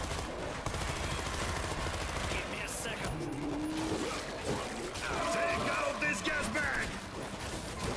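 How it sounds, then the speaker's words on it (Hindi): A heavy gun in World War Z fires in dense sustained bursts, loud and close, with a chaotic crowd of zombie combat noise, while someone talks over the shooting. "हैवी गन यूज करनी पड़ रही है हमें"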